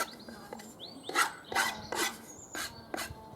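A file rasps over the edges and corners of a wooden bench hook in several short, firm strokes with brief pauses between them, close and clear, while birds chirp faintly in the background.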